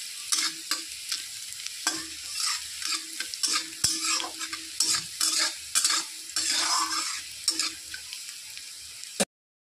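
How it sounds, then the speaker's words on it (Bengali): Garlic and green chillies fry and sizzle in a pan while a utensil stirs them, with scraping strokes in a loose rhythm over steady crackling, close and alone. "রসুন আর কাঁচা লঙ্কা দিয়ে দিচ্ছি। নেড়ে চেড়ে নেব।"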